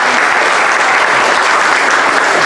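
An audience at a club anniversary gathering honouring Emiliano Zapata gives a dense, sustained round of applause for Víctor, loud and close, with no pause.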